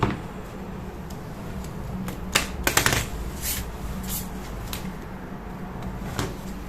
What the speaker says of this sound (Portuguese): vou embaralhar de novo